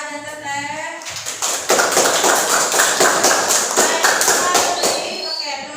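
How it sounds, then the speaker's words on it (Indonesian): Classroom applause for student groups after their presentations, a dense patter of claps from many children that swells after the first second and holds steady before tapering, with some shuffling around it. "Beri tepuk tangan Aha dan Teteh."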